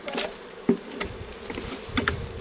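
Bees buzzing in the open air during a stay in Jamaica, darting close past the ears in quick, irregular passes with a few sharp louder swoops, no voices.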